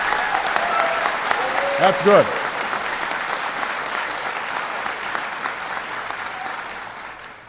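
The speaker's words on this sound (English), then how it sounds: "And that's worth applauding." An audience at a presidential speech on a jobs report breaks into steady, sustained applause, with a voice briefly speaking over the clapping early on before it continues alone and fades.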